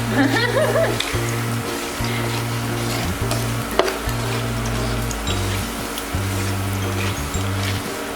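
Bacon sizzles in melted butter in a pan for bacon fried rice, a dense crackling spatter running throughout under a steady low hum and occasional stirring clicks.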